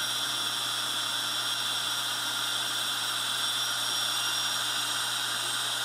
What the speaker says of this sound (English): I'm using a metal cutting bandsaw, which is really nice because it doesn't heat up the stone